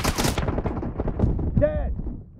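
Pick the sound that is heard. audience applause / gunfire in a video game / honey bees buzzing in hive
gunfire in a video game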